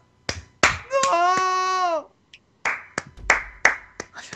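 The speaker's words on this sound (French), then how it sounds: "J'applaudis, voilà." A voice sings a sustained note, then several sharp, bright claps ring out one after another with short pauses, close to the microphone.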